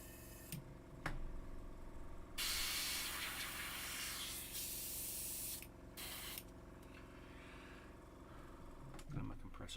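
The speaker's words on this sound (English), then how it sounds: "Let my compressor build up pressure again." An air compressor building pressure for airbrush painting runs as a steady hiss and hum, with louder bursts of spray-like air in the middle and faint speech around it.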